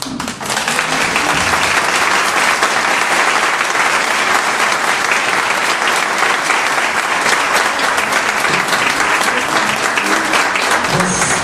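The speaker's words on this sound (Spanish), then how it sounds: "Creo que sin duda es un aplauso muy merecido" Sustained, loud audience applause fills a conference hall at the close of a talk on coping with life's losses, dense clapping holding steady from start to finish with no speech over it.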